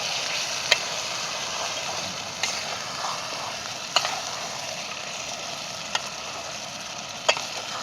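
A prawn curry is stirred in a pot over a wood-fired chulha, a steady bubbling sizzle broken by a few sharp spoon scrapes and clicks spaced a second or two apart, with no voices.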